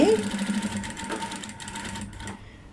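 A sewing machine stitches along the fold of a blouse in a steady mechanical chatter, with someone talking over it throughout.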